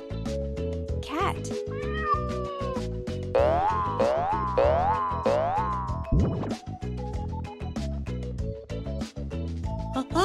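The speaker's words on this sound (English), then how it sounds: "Cat." A cartoon cat meows in a children's animated show about colours, the cries rising and bending over bouncy music with springy boing effects and a voice speaking briefly.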